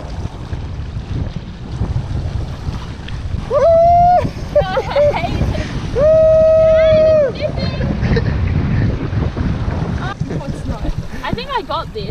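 A small sailboat moving through windy open water, with steady wind buffeting the microphone and waves washing against the hull throughout, while people talk and call out nearby.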